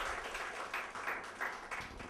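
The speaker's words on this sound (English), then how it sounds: "can we clap for each other now?" Audience at a Sunday session clapping for one another: a brief, faint burst of scattered crowd clapping heard from a distance, lasting about two seconds.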